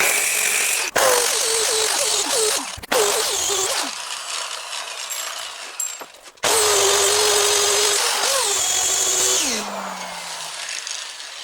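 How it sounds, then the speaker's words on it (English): Power grinder cutting through a metal section of a tractor chassis, a loud continuous gritty whine with pitch dips as the disc bites, stopping briefly twice and restarting for a longer run. "I'm going to grind this section off"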